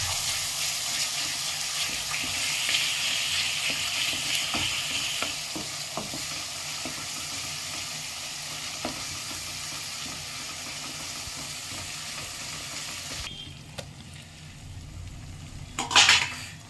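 Ginger and garlic sizzle steadily while being stirred in a pan over a very low gas flame, with scraping stirs throughout and a brief louder clatter near the end.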